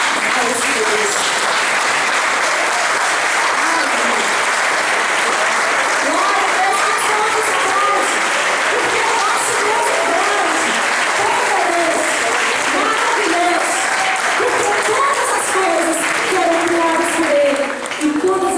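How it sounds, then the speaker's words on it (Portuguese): A standing church congregation gives loud, steady applause for God that fills the room without a break, with voices and cheers mixed in. "Fique em pé e dê um aplauso bem forte para esse Deus."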